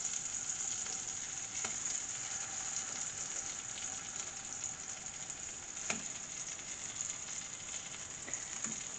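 Tomato slices frying in a hot pan, a faint, steady sizzling hiss with occasional soft crackles and pops, no voices.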